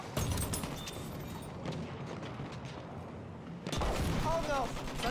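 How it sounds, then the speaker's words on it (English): Machine-gun fire in a wartime shooter game, dense rattling bursts and distant booms that ease briefly then swell louder again near the end, with game voices mixed in. "Oh wow, someone else is shooting me."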